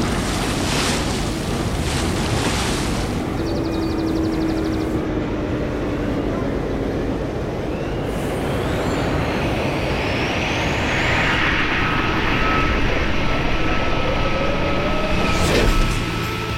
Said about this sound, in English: check out this sound for an electric powerboat.